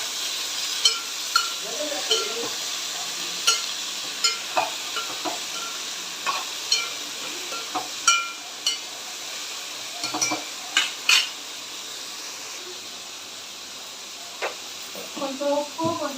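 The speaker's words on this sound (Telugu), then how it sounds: "ఇందులోనే బీరకాయ ముక్కలు, టమాటా ముక్కలు కట్ చేసుకున్నాయన్నీ వేసుకుంటున్నాను" Ridge gourd and tomato pieces go into a pan of fried onions and get stirred, a steady sizzle punctuated by repeated sharp clinks and scrapes of a spoon against the pan, with a voice speaking at times.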